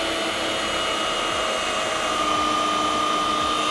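A Ninja Swirl ice cream maker runs loudly with a continuous whirring motor drone, steady and close like a straining fan, with no speech over it.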